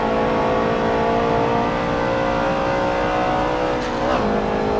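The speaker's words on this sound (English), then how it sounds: "Yeah, it just was audible there, the gear grinding." A Subaru's engine drones loud and steady while racing the Nordschleife in Forza Motorsport 7, broken near the end by a brief harsh grinding of gears.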